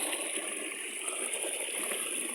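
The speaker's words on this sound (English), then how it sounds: "You can hear the water come from there." Continuous rushing water from a mountain stream flowing nearby, steady and fairly loud with no talking.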